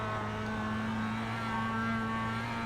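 A Mazda MX5 engine at steady full throttle in iRacing at Charlotte, a loud continuous buzzing drone with a constant pitch, close and alone until it cuts off abruptly.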